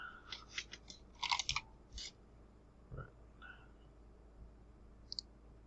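Sparse clicks and a short flurry of key taps on a computer keyboard and mouse, faint and close with pauses between, heard alone in a quiet room.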